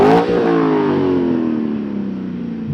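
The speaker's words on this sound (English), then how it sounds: "now let's talk about that exhaust. It is modified. It's a MagnaFlow." C6 Corvette Z06 with a modified MagnaFlow exhaust, heard from outside as the engine revs up in one loud, close rising growl that then eases back down over a few seconds.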